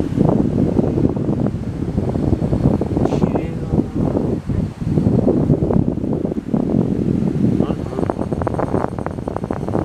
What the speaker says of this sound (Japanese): すごい風だ。